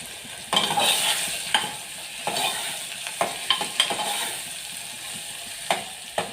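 Bottle gourd pieces sizzle in a tempering of cumin, asafoetida and tomato, a close frying hiss broken by repeated sharp spoon scrapes and clacks against the pot as it is stirred.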